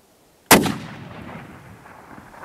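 One sharp, loud rifle shot from a Remington 700 fitted with a muzzle brake, fired outdoors at a distant rock, with a sudden crack followed by a long fading echo that rolls away over about two seconds.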